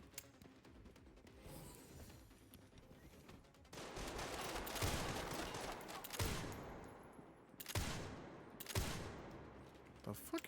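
Bursts of rapid video game gunfire from Resident Evil Requiem erupt in several loud volleys, separated by quieter gaps, over a low background bed.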